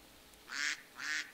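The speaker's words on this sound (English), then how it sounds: "We found more ducks." Two evenly spaced duck quacks from the Minecraft video game, clear and nearby over a quiet background with no voices.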